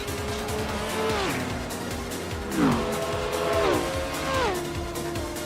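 Race cars cross the finish line one after another in a Grand Touring Championship racing video game at Surfers Paradise, engines whining and pitch dropping as each passes, with several overlapping passes at a steady loud level.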